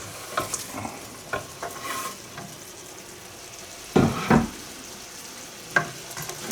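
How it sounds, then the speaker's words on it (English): Onions and garlic added to a mushroom soup mixture with rosemary, cooking and being stirred in a pan: a low background sizzle broken by irregular scraping stir strokes, including louder bursts midway. "these are the onions and garlic that I'm going to add in."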